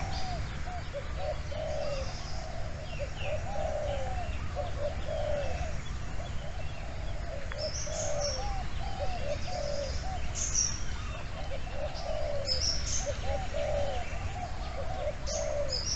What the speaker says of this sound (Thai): นี่นะเสียงเพชรนรสิงห์นะดังลึงนกนะคร